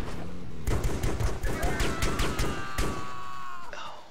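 A long volley of sharp gunshots from the video game Joint Operations: Typhoon Rising cracks out in quick irregular succession, loud and close, then trails off into a fainter tonal hum.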